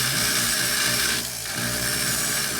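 A rotary tool grinds at low speed while porting a KTM/Husqvarna 250/300 two-stroke cylinder, producing a steady close whirring hum with a brief dip in pitch and loudness partway through.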